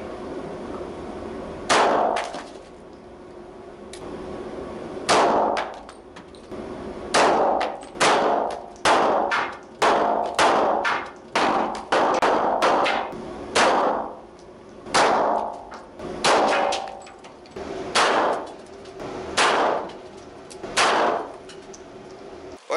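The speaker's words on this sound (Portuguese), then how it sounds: "vamos dar tiro de 380 até romper essa placa aqui" Repeated sharp metallic clangs of .380 bullets striking a steel plate, about twenty impacts at irregular intervals, each ringing briefly before fading.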